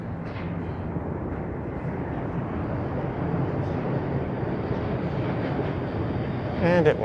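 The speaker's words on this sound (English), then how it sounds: "Hopefully that's not a northbound train I hear right now." A northbound train passes during a night walk in downtown Toronto: a steady, low rumble holds throughout, with a slight swell near the end.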